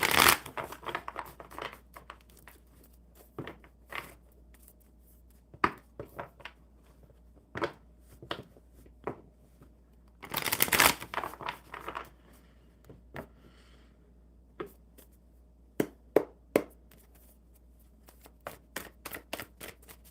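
Playing cards shuffled and handled close up in a series of quick riffling bursts and soft taps, with scattered pauses between the bursts and no talk.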